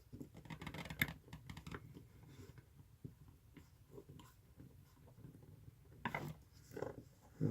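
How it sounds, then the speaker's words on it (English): Coils are screwed into a tattoo machine, giving quiet close metallic clicking, ratcheting and small scraping sounds in irregular bursts, with a few sharper taps among them. "take your coils, screw it in there a little bit."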